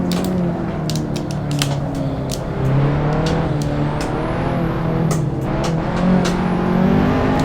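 A BMW E30 race car engine in the racing game Assetto Corsa drones steadily and loudly throughout, its pitch rising and falling with gear changes and throttle, with no talking.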